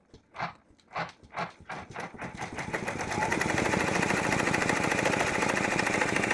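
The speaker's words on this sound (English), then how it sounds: "it's going to give us a quick top stitching right around there." An embroidery machine sews a satin-stitch top stitching on an in-the-hoop gift card holder, starting with a few spaced needle thumps that speed into a steady, loud, rapid mechanical chatter, heard alone.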